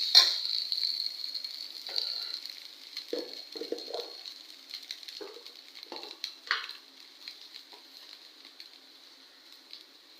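Curry leaf powder and rice stirred in a pan, with soft scraping and light sizzle spread in irregular bursts over a steady faint hiss, close and fairly quiet, no voices.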